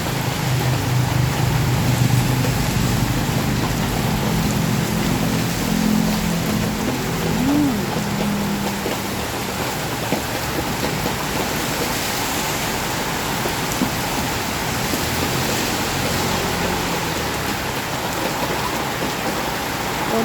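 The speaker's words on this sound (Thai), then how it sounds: "ฝนตกแรงนะ" Heavy rain pours down steadily on Lat Phrao, Wang Hin, a dense continuous hiss close by with no voices over it.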